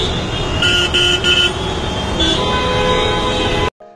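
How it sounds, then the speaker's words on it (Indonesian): Car horns honking in Indian street traffic, several overlapping tonal toots and blares over a constant roar of road noise, loud and close. "kenapa ya orang India tuh suka membunyikan klakson di jalan?"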